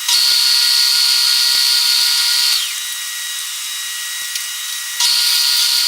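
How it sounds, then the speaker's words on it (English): Power drill boring a 3/16-inch hole through a welded steel bed frame, a loud steady high whine that drops to a lower note midway, then surges back to full speed near the end. "I'm going to get this hole drilled through here. I'm going to start it with a 3/16."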